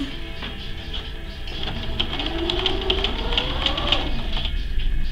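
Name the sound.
sewing a facing on a sewing machine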